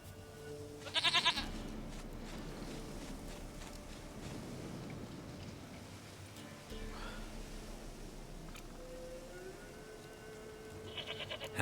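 A goat in The Witcher 3 gives short bleats, the first loud near the start and another near the end, with a game character's speech and soft ambience in between.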